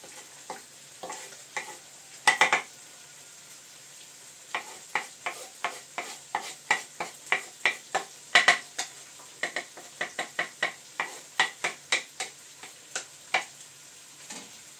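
Vegetables frying for pilaf rice, with a utensil scraping and clicking against the pan in irregular bursts over a low, steady sizzle, close and without talk.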